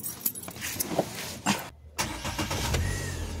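A Chery Tiggo 2, left sitting for a month in Saudi Arabia, fires up on a single click: a brief crank and a short pause, then the engine catches and settles into a steady idle, heard close up with no talking.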